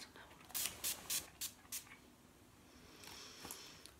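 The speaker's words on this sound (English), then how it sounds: "I'm gonna have to spray some now." A body spray is pumped in several quick hissing bursts close to the mic, followed by a longer, fainter spray-like hiss.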